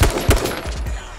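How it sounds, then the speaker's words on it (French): Gunshots in the video game H1Z1, heard as a quick close series of sharp shots in an irregular rhythm with ringing tails, loud and brief. "Je vais tirer dessus."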